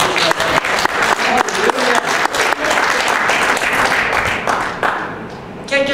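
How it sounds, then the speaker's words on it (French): A church congregation breaks into loud, dense applause, clapping vigorously for about five seconds before the sound thins out and fades. "Est-ce qu'on donne une bonne acclamation?"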